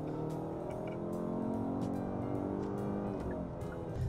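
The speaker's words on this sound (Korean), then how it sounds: "은은하게 좀 들려오는 이런 배기 사운드도 뭐 들리는 분들에 따라서는 이게 소음이 될 수도 있지만" Muffled engine and exhaust drone from a Kia K8 facelift in sport mode, a low steady hum heard from inside the cabin, rising slightly as the car pulls, with no talking.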